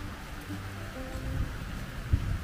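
Steady rain falls ahead of an approaching typhoon with a soft, even hiss, with a low rumble underneath and one brief thump near the end.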